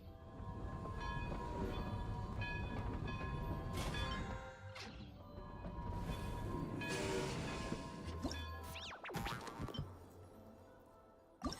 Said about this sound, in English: How do I use the eye to call the train?